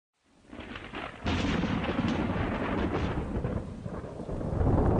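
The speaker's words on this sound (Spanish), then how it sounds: "una tormenta se descargó con gran huracán y nos echó por tierra algunas carpas" A thunderstorm with heavy rain and strong wind, striking a camp of tents in February near the Pavón stream in Argentina: a deep rumbling thunder roll builds into sustained, loud, broadband roaring that stays dense and swells again near the end.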